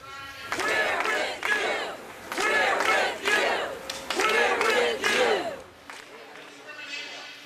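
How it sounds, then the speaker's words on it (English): Huge crowd at a rally against gun violence on the Ben Franklin Parkway, chanting in loud rhythmic bursts of shouting voices that rise and fall in repeated waves, then fade. "on the Ben Franklin Parkway, a huge crowd gathered to speak out against gun violence."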